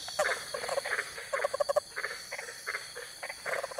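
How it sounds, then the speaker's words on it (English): An invasive cane toad calls from a pond, giving rapid pulsed trills in short repeated bursts, close and fairly loud against a faint background hiss. "What you got to say, Mr. Toad?"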